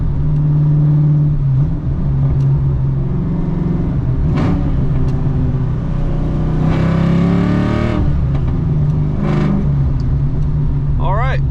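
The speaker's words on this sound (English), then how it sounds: "this is just a short little test drive. So downshift." A Ford Foxbody Mustang on a short test drive holds a loud, steady engine drone with road noise, then the pitch sweeps and shifts midway as the driver downshifts.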